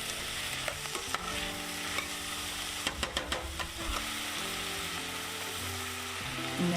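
Venison chili mac stirred in a hot pan, a steady sizzle under repeated scraping and clattering strokes of the spoon, close and continuous.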